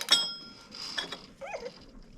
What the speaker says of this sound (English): I'm going to do the old ratchet and wrench kind of situation here.